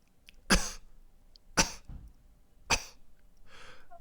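A person gives three slight, dry coughs spaced about a second apart, quiet and close in an otherwise hushed space, followed by a soft breathy exhale.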